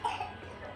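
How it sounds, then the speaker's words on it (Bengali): A person with a cold coughs once on a foggy, overcast day: a single short, quiet, husky cough up close. "কাশি হচ্ছে গো ঠান্ডা লেগেছে"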